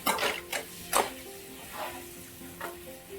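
Coriander powder being stirred into a spiced potato masala in a frying pan, with a steady sizzle and a few soft scraping strokes of a spoon against the pan, close and fairly quiet.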